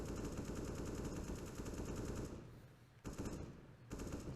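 AK rifle fire in a CS:GO match comes as rapid sustained automatic bursts, dense and continuous, then breaks into a couple of shorter bursts with brief gaps, fairly quiet overall.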